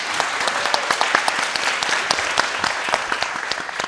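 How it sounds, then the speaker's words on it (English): A college audience applauds the speakers, with dense, steady clapping from a crowd filling the whole stretch at a consistent level. "let's give them a big applause, everybody"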